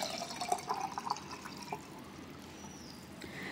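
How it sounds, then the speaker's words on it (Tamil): Water poured into a vessel, likely silver, while preparing a ritual water mixture for a kolam, with a soft trickling splash and a few drips, fairly faint and alone. "ஸோ அதனால் இப்போ இதில் நம்ம தண்ணி ஊற்றிக்கலாம்."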